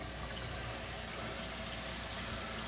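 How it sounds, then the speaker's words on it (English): Kitchen faucet running with both hot and cold water on, a steady broadband rush of water into a sink, constant and close, with no talking. "Run the faucet first, rather. Both sides, hot and cold"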